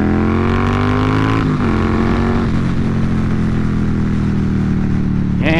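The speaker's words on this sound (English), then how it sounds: "I don't know how the exhaust sounds coming across on the GoPro," A 2020 Indian Scout Bobber cruiser motorcycle's exhaust drones steadily while riding, a loud, continuous low rumble that shifts pitch slightly with throttle changes, with wind noise and no talking.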